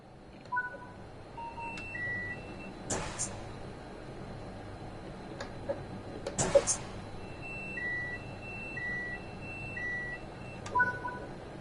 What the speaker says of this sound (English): This is the tilt authorization and speed supervision alarm and will need to be acknowledged.